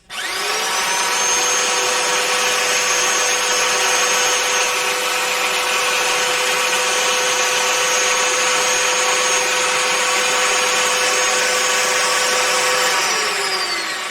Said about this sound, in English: I'm going to take my power sander and I'm going to go ahead and just sand this off real fast here